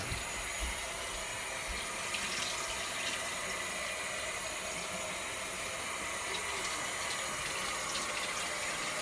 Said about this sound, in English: I'm going to run my hot water